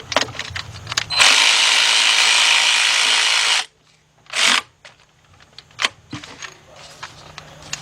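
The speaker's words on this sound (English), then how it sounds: "got my 18mm shallow socket, 3/8 drive, and let's reach back there and get this bolt back here first" An 18mm shallow socket on a 3/8-drive ratchet turns an engine bolt during a Chevy Equinox head gasket and timing chain job, giving one long run of rapid close clicking, then a short burst and scattered ticks and clunks.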